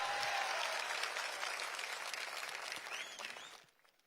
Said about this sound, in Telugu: చేశారు అంటే గట్టిగా చప్పట్లు కూడా చెప్పండి చేశారని.